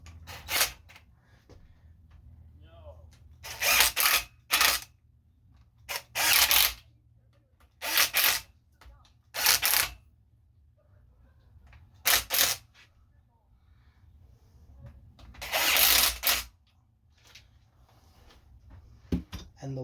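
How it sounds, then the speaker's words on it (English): A socket wrench ratchets down 10 mm bolts on a Honda Civic EK engine during a piston and ring install, in short close bursts of rapid clicking separated by quiet pauses. "Now I'm just going to tighten them all down."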